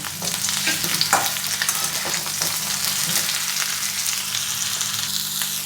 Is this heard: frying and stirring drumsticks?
yes